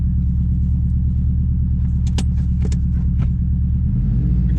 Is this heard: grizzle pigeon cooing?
no